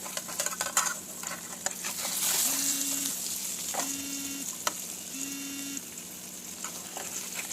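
Powdered egg omelette fries in a pan while being stirred and scraped, a soft steady sizzle with scraping strokes and three short repeated electronic tones partway through.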